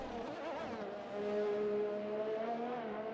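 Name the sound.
Formula 1 car engine in F1 2020 video game, Red Bull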